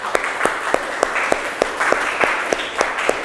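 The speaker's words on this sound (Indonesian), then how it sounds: "tepuk tangan buat kita semua" Classroom applause, a group of students clapping together with sharp, fairly regular claps over a steady patter, heard at close range.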